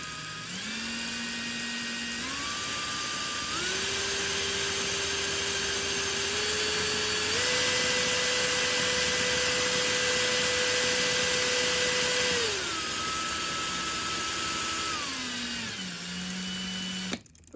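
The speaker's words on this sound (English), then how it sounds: "we've been asked to operate this on electric drill just to make sure that everything is operating" An electric drill spins a chronometric tachometer drive, its whine stepping up through several steady speed levels, holding high, then stepping back down; loud, close and continuous, with no speech.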